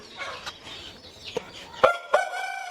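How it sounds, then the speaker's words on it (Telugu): A rooster clucks and lets out a short, strained crow-like call near the end, close by, with faint background noise. "మనకు ఒక కోడిపుంజు ఉంది"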